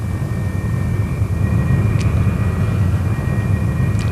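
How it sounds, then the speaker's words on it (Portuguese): A Messerschmitt Me 262 jet aircraft in flight gives a loud, continuous roaring rush with a thin steady whine on top, unbroken for about four seconds with no voices. "o terceiro 262 fez seu primeiro voo a jato"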